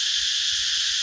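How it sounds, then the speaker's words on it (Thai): Cicadas call through a forest in the growing season, a continuous, dense high-pitched buzzing drone that fills the short stretch at a steady loudness, with no voices. "เต็มแต่เสียงจักจั่นเฮาได้ยินมันฮ้องดังทั่วป่าเลย"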